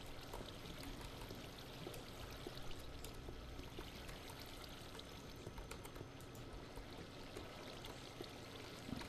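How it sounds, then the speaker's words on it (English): Steady rushing flow of large volumes of water in a Minecraft modded survival map, a continuous broadband pour with no pauses, moderately loud and heard alone. "I think I need to block off the gallons and gallons of water."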